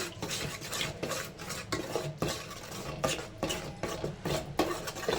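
Spice powder and turmeric frying in a pan for a mackerel fish sambar, busy rhythmic scraping and clinking of a spoon against metal over a faint sizzle, close and continuous.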